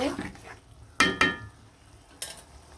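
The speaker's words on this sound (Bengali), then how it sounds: "মূলাটা আমি আগে কষিয়ে নিব" Radish sautéing with spices in a pan, a soft background sizzle broken by three sharp scrapes and knocks of a spatula against the pan, close and intermittent.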